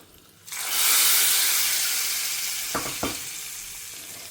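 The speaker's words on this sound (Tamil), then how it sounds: "கடுகு பொரிய ஆரம்பிச்சு எடுத்து கருவேப்பிலை கொஞ்சமாக பெருங்காயம்" Mustard seeds, curry leaves and a little asafoetida crackle and sizzle in hot oil, a loud steady frying hiss rising quickly and holding, with a couple of short sharp pops near the end.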